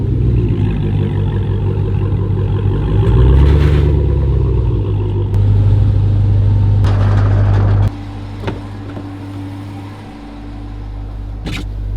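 A Jeep Trackhawk engine with its stock intake rumbles close by, rising in a couple of loud revs before dropping back to a lower idle.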